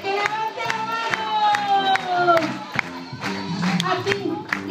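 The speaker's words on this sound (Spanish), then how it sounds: "todo el mundo con sus palmas. Aplaudiéndolo bien bonito mi festejado" Party guests clap along at a baby boy's first birthday, steady rhythmic clapping mixed with crowd noise and cheering, with a tune playing underneath and voices throughout.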